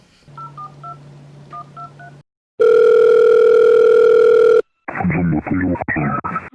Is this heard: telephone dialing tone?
yes